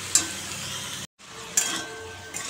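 Potato and papaya cooking with cumin and turmeric powder in a pan, a soft sizzle with stirring scrapes and a couple of sharp spoon knocks, briefly dropping to silence midway before the frying resumes.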